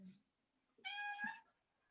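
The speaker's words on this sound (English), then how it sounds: "That's my cat." Domestic cat giving a single clear meow near the microphone, with faint soft sounds before it in an otherwise quiet room.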